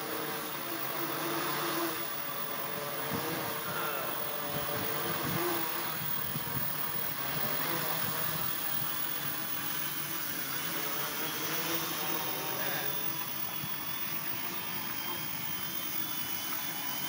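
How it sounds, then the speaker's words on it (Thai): An unmanned aircraft descends to land automatically, giving a steady, loud jet-like engine drone and broad rushing noise that holds for the whole stretch, with no talk. "กำลังจะทำการลดระดับลงมาเพื่อลงจอดนะครับ"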